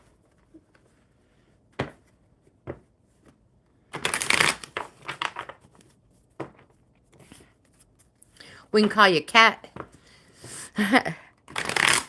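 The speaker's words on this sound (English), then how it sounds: "Let's do that right now before I finish shuffling." A deck of playing cards being shuffled in short riffle bursts between stretches of talk during a live coffee-and-cards session; soft crisp rustles repeat irregularly, with a person speaking over and between them.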